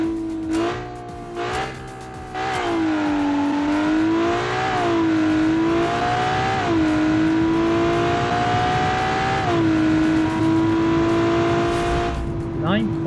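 A 993.7 hp 3.5-liter turbocharged inline-six, front-mounted in a front-wheel-drive space-frame car, roars through gears in a BeamNG.Drive drag race, its pitch climbing and dropping with each shift while someone talks over it.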